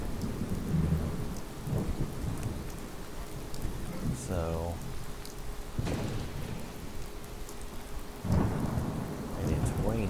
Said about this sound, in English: it's raining, and it's storming